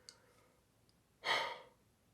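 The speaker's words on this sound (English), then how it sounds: "I just yawned" A man gives a single breathy yawn late at night while reviewing WrestleMania 37, a soft, close exhale lasting about half a second.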